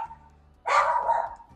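A dog barks once or twice in a short close burst, loud against a quiet room, with a faint steady tone underneath.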